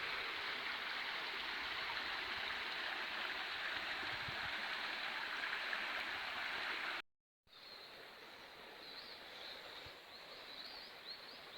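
Dalby Beck, a crystal-clear stream under a footbridge, flows with a steady, continuous rushing close by, holding even throughout apart from a brief dropout.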